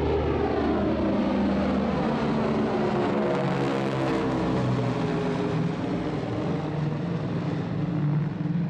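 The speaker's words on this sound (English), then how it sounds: "Here is a footage of a huge plane taking off during sunset with engine exhaust flames." A huge plane takes off at sunset, its engines giving a loud, continuous broadband roar that holds steady throughout with a slowly shifting rumbling tone.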